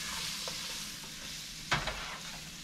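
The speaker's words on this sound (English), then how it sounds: "I like to cook the onions for a little bit before I do the next part." Onions cook with flour and seasonings in a pan, a quiet continuous hiss with a single brief scrape of stirring partway through, no voices.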